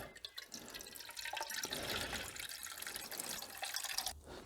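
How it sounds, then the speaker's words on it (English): Engine coolant pours steadily out of a Suzuki V-Strom DL650 motorcycle radiator with the cap opened, a continuous close splashing trickle with dripping throughout, and no voices. "once you open the radiator cap, she'll start pouring out."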